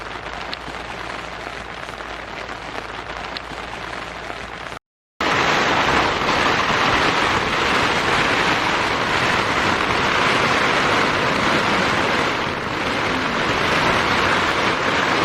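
Heavy downpour drumming on a tent at a campsite, a dense, loud and steady broadband roar with no voices, broken by a brief silent gap near the start.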